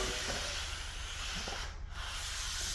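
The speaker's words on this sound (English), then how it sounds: "Now up to this corner bead, I'm going to sand off this corner." Drywall corner bead being sanded, a continuous broad rasping hiss of abrasive rubbing over the surface, close and steady, with a brief dip near the end of the stroke.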